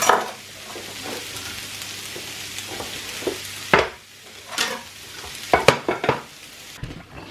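Onions soften in a frying pan for caramelised onion gravy, giving a steady soft sizzle with occasional close stirring scrapes and clinks of a utensil against the pan.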